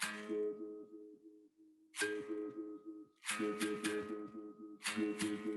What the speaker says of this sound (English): When you move away the berimbau or resonance chamber from your belly, you create this sound.